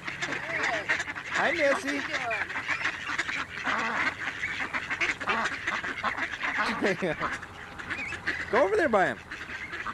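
Ducks quack and honk in several nearby bursts while people talk at a small first birthday outing where the ducks are being fed.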